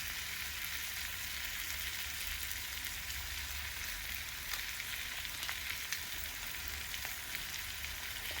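Tomatoes and tomato paste fry in a pan for a wet-fry goat (mbuzi) dish, giving a steady, close sizzle with a crackling hiss that runs without a break.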